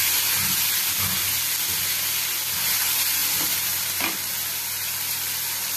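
Coriander and cumin powder sizzle steadily with tomato puree in a hot pan for bottle gourd and split chickpea dalma, a continuous frying hiss broken by a few soft stirring scrapes, with no talking.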